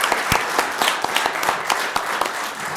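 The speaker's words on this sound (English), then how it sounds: "So can we give them a round of applause?" A city council meeting audience gives a round of applause, with sharp, fairly close individual claps that stand out over a dense crowd clapping for a few seconds.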